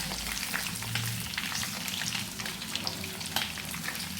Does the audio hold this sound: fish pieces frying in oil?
yes